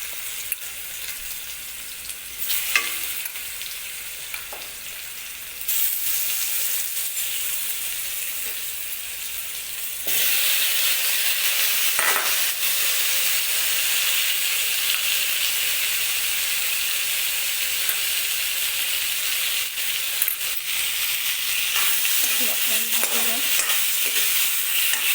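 Hog plums (omora) fry in hot oil with fenugreek seeds, a steady close sizzle and hiss that grows louder partway through, with occasional stirring scrapes and no talk.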